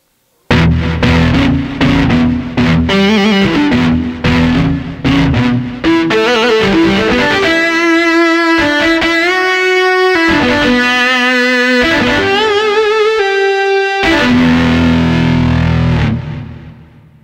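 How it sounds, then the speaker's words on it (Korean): Synthesizer distortion guitar tone, bank A number 28, plays a loud solo passage: choppy repeated chords first, then long, gritty held notes that bend and slide before cutting off. "디스토션 기타 소리를 들려드리겠습니다."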